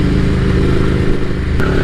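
Café racer motorcycle engine running loud and close, a steady low throbbing idle with a brief sharp rev near the end.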